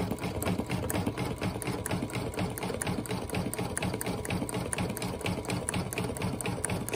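A sewing machine runs continuously, stitching braid tassel trim onto a gingerbread man scarf craft. Its needle taps out a fast, even, rapid rhythm at close range for several seconds, with no one talking.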